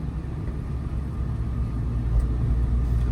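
A car engine rumbles low and steady under acceleration in third gear on a two-lane city road, the drone slowly building in strength.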